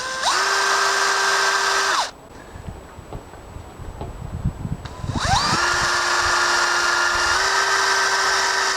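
A power drill bores holes in timber for a walk-in vegetable cage, two loud high whining bursts at close range, spinning up and holding steady, separated by a pause of clicks and handling noises.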